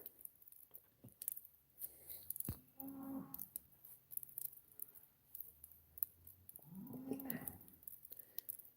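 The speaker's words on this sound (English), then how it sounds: "Cows are looking for their kids." Cattle on a ranch mooing for their calves, two long low bellows a few seconds apart, somewhat distant over quiet outdoor ambience and scattered small clicks.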